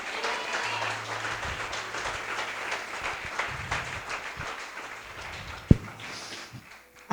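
A church congregation applauds during a sermon, a moderate wash of clapping that gradually thins out, with a sharp knock partway through and a brief loud sound at the very end.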